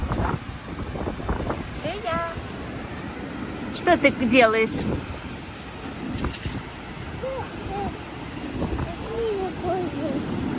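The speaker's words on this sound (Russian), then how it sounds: "Очень сильный ветер и волны." Strong wind by the sea in Bali buffets the microphone in steady rumbling gusts with waves beneath, while adults and someone talk over it.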